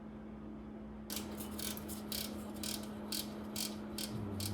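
A ratchet loosens a nut on a Lotus Esprit JPS engine during a teardown, clicking in quick rhythmic bursts close to the microphone over a steady low hum, with no talking.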